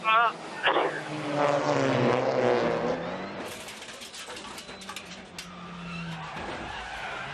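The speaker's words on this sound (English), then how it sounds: "Suddenly, the rear locks up." A WTCR touring race car at the 2019 Morocco round skidding as its rear wheels lock up under brake failure, a long screeching tire squeal over engine drone, with a commentator talking over it.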